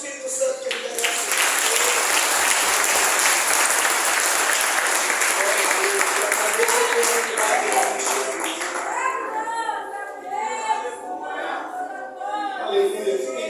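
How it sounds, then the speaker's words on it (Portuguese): Congregation in a church service applauding loudly and continuously, a dense wash of clapping with voices calling out over it toward the end. "Aplauda o Espírito Santo que ele merece."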